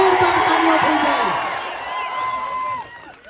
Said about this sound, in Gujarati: ચૈતરભાઈ વસાવા માટે જોરદાર તાળીઓ થઈ જાય